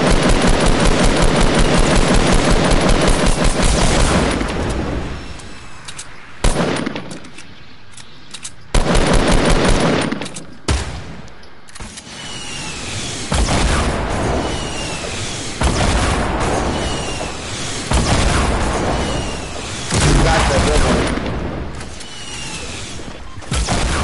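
Fortnite gameplay sounds: rapid machine-gun bursts at the start, then booming rocket explosions and scattered gunfire with brief quiet gaps, loud and continuous across the stretch, no talking.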